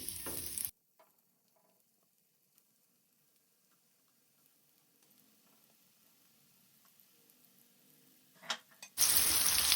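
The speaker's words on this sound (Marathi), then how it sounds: "ही रवो लावून घेतल्या ती मशरूम आमकां आतां तव्यार घालपाक जाय।" Rava-coated mushrooms fry in oil on a hot tava over a high gas flame, giving loud bursts of sizzling at the start and again at the end with a near-silent stretch between.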